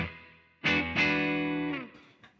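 A couple of electric guitar chords struck and left to ring out through a Walrus Audio ACS1 MK II amp simulator pedal on its Deluxe Reverb setting, with a gentle roomy tail before fading.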